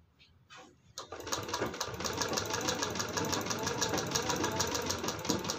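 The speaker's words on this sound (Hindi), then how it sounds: "ये देखिए बिल्कुल किनारे से हमें इसी तरीके से सिलाई लगाते जाना है" A sewing machine stitching piping along the neckline of a long-sleeved blouse starts after a brief quiet moment, then runs in a fast, even mechanical rattle close by, steady and continuous to the end.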